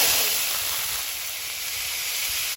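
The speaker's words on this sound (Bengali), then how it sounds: "তেল দিয়ে দেব আলুগুলো ভেজে নেব" Potatoes frying in oil for a Bengali jhinge aloo posto dish, a steady loud broadband hiss with no breaks, close and alone without talk.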